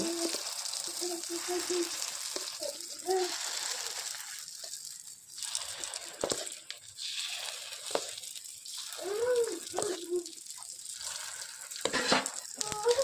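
Spoonfuls of gunta ponganalu batter going into a hot paniyaram pan crackle and fry in a continuous moderate sizzle, with occasional scrapes and taps of the spoon.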